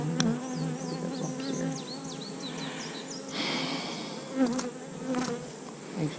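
Honeybees buzzing around an open beehive during a requeening check, a dense, steady hum of many bees close by, with individual bees whining past and a few soft handling knocks.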